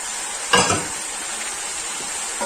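Sliced tomatoes fry in a pan for chicken masala, giving a steady close sizzle with a brief loud stir or scrape of utensils early on and a faint clink near the end.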